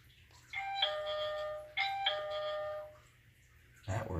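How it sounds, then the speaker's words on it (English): Two clear electronic chimes from a wireless video doorbell ring out, each a bright ding-dong that decays, followed by a short clunk at the end. "It rings a doorbell."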